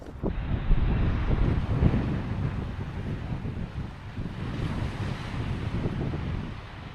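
A strong wind buffets the microphone at the seaside at Seaham, with constant loud roaring gusts and surf washing underneath.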